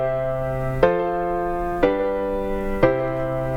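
Solo piano plays a chord progression in C, three sustained chords struck about a second apart, each attack ringing out cleanly with no voices.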